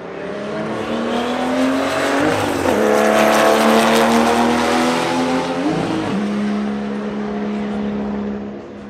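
A race car engine at an auto race, revving at a high, steady pitch. It swells louder in the middle and dips briefly before settling back into a sustained drone.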